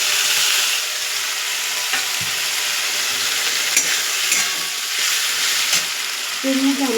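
A paste of coconut, poppy seeds, melon seeds and green chillies fries in a pan, giving a steady, close sizzle with frequent stirring scrapes and clinks throughout.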